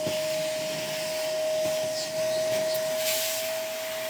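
A vacuum cleaner runs with a steady, loud hiss and a constant whine, unchanging throughout.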